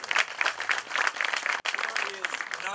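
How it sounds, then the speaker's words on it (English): A crowd at a community gathering gives a round of applause. The dense clapping is fairly loud and continuous, with a short break partway through before it picks up again. "If we get a round of applause for all of them."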